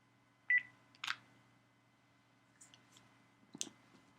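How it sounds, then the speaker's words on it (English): Telephone keypad tones sound as 5 and star are pressed on a phone during a conference call, a few short, quiet beeps and clicks spread apart over otherwise near-silent line hiss. "Please press 5* on your phone if you have follow-up questions."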